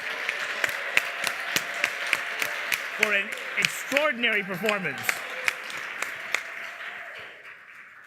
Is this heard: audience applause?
yes